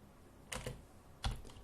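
Two short bursts of clacking keystrokes on a computer keyboard while a terminal command is entered, close and fairly quiet, with a pause between the bursts.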